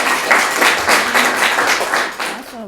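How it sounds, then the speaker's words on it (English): An audience applauds a speaker at a health talk on hormones, with dense steady clapping throughout and a few voices mixed in, fading out near the end. "Please give a huge round of applause."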